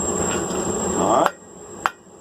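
Two sharp metallic hammer blows on hot steel as a taper is drawn out to a long point at a forge, spaced about half a second apart and heard close.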